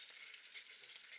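Bajji fritters fry in hot oil with a steady, bright crackling sizzle, faint and continuous, with no voices.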